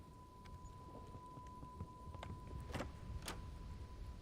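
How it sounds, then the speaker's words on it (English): Thunder rolls through the ANGST winter survival game, a low rumbling bed with a few sharp crackling bursts in the second half and no talk. "Oh, thunder."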